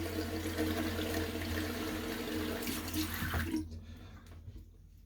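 Cold tap water runs steadily from a faucet into a sink during a face rinse after a shave, a close, full hiss that cuts off abruptly about three and a half seconds in, leaving faint drips.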